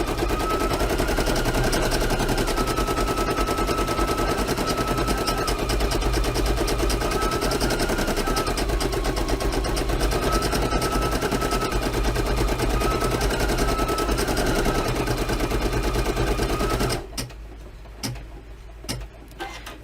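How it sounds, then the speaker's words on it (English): A Brother F540E embroidery machine stitching, a loud, rapid, steady mechanical ticking and whirring that runs without pause, then abruptly stops, leaving a quieter room with a few faint clicks. "as the machine starts the next color, it pulls the thread through to the back so there are no loose threads on the top"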